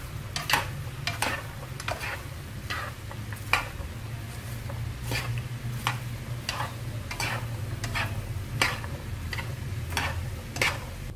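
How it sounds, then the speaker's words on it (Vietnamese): Freshly popped buttered popcorn being stirred with sugar in a pan, a steady series of crisp scraping and clattering strokes at a regular rhythm over a low background hum, close and fairly quiet. "Các bạn đảo đều lên để cho tất cả bắp rang bơ đều được ngấm đường nhé."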